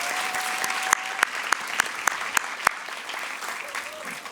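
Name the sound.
audience applause at an awards event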